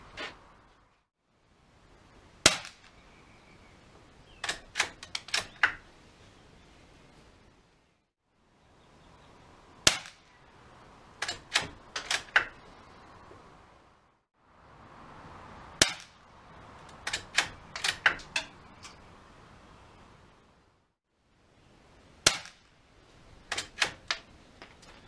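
Several groups of sharp, quiet cracks come from a .22 rifle shooting reduced-power rounds at close range. The shots fall in irregular bursts of three to five, with short silences between the volleys.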